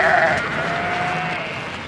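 A single Orkney sheep bleats during a yearly roundup, a loud, close, drawn-out call lasting almost two seconds that fades slightly toward the end.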